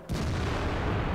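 A tank cannon fires in World of Tanks, one heavy boom opening a sustained rumbling roar that holds loud and full to the end.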